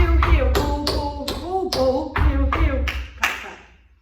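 Tap shoes strike a floor during a live tap class in a series of loud, close, evenly spaced ball and heel beats that ring briefly, with a voice calling along.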